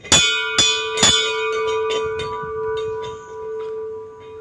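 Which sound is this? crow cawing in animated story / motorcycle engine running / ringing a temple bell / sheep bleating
ringing a temple bell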